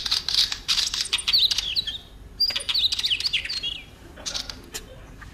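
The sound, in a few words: northern wheatear song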